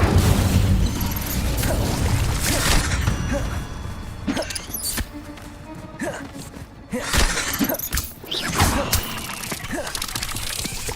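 Confringo and Incendio spells fire in Hogwarts Legacy, the blasts landing as loud repeated bursts and crackling impacts over continuous game background noise.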